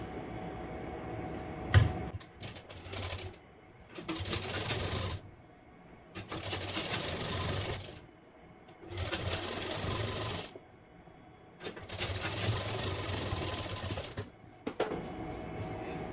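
A sewing machine stitching a princess cut blouse, running in steady bursts of several seconds with brief pauses between, a close, even mechanical whirr and clatter with no speech.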